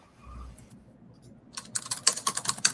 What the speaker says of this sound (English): Now let me turn off the timer sounds, typing sounds.